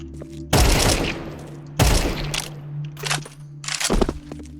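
Loud bursts of AK rifle fire in Counter-Strike 2, three or four short volleys a second or so apart, close and sharp against a quiet background hum.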